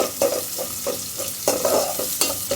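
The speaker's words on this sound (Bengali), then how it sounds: "পাঁচফোড়ন দিলাম রসুন পেঁয়াজ কাঁচামরিচ ডালে দিয়ে দিছি" A dal tempering of panch phoron, garlic, onion and green chili frying in hot oil: loud, continuous sizzling, with a spatula stirring and scraping in a steady rhythm of repeated strokes.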